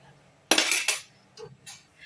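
Cooked rice for paneer dum biryani tipped from a pot into a strainer, a sharp metallic clatter and scrape of pot against colander, followed by a few lighter clinks, close and alone.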